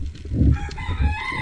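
A chicken clucks and crows briefly up close, a short throaty call rising into a drawn-out note.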